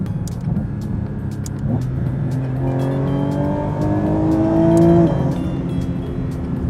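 A naturally aspirated car engine revving toward 9,000 RPM, loud and close, its exhaust note climbing steadily in pitch before dropping off.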